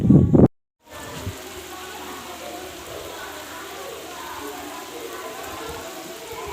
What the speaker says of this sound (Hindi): बारिश जो है वो तेज़ आ चुकी है अभी